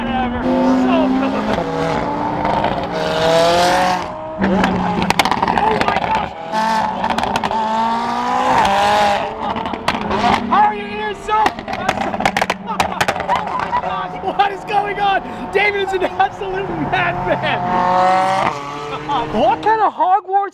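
A tuned Lamborghini with downpipes and all-wheel drive revs and accelerates, its exhaust droning through rising and falling engine notes with sharp pops and crackles scattered throughout; loud and close, with people talking over it.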